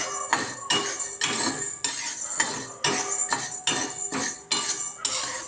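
A spoon scrapes and stirs sabudana (sago pearls) roasting dry in a pan. The clinking and scraping strokes repeat in a steady rhythm, close and fairly loud, with no voices.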